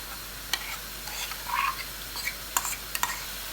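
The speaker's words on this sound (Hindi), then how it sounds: "अब हमने मसाले को भूनते जाना है" A masala paste mixed with yogurt roasts in a pan with a soft, low sizzle, while a spoon scrapes and clicks against the pan in a few scattered strokes.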